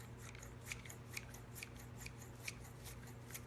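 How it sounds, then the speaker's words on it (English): Professional kitchen shears snip through a bunch of cilantro in a steady rhythm of about eight crisp cuts, close but quiet, with no talking. "I'm going to use my professional kitchen shears and I'm just going to cut these off."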